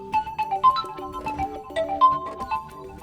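A Realme 9 Pro+ phone plays a system ringtone: a short, bright electronic melody of quick chiming notes at steady volume, with no talking.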